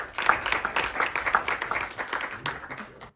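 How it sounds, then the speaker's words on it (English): A short burst of clapping from an audience welcoming a guest speaker to a talk, uneven and moderately loud, fading out after about three seconds. "A big round of applause already"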